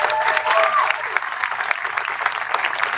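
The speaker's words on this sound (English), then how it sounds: "One more round of applause here." An audience at a live awards show in Las Vegas gives one more round of applause for people on stage, steady clapping while a voice speaks over it.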